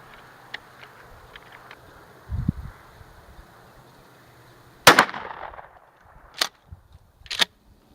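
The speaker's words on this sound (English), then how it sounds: "that was me shooting the RIO Royal Buck at 20 yards" Shotgun firing RIO Royal Buck 2 3/4 buckshot shells at 20 yards outdoors, three sharp reports spaced a second or so apart, the first loudest and followed by a brief echo, with faint clicks and a low thump before them.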